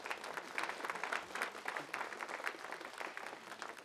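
A studio audience at a televised lottery draw applauds in a steady, even patter of many hands, heard at a moderate distance and fairly quiet.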